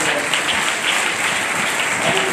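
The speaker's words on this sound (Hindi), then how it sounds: "फिर से जोरदार ताली बजाएंगे।" A church congregation claps loudly in continuous, dense applause during a worship service, close and sustained throughout.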